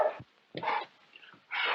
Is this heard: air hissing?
no